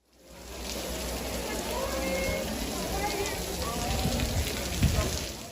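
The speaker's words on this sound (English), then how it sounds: "I even paused for you to listen to the rain because it was that heavy" Heavy rain pours down at a school in the Bahamas, a steady, dense hiss of falling water that holds throughout, with a few louder patters near the end.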